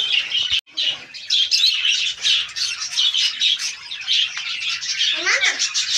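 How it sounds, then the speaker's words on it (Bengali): Caged lovebirds and cockatiels call continuously in a dense, nearby chorus of shrill squawks and chirps, loud and overlapping, with a short gap near the start. "এখানে আছে তোমার লাভবার্ড। এখানে আছে ককটেল।"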